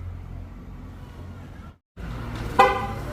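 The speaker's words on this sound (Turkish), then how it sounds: "Kitlemede ve açmada kornamız." A low engine-like hum cuts out briefly, then a single short horn toot from a 2019 Volkswagen Golf 7 on remote locking sounds sharply and fades.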